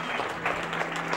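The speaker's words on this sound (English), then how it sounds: "Let's give her a big round of applause." Pageant audience applauding a contestant, a dense steady burst of clapping from a crowd throughout.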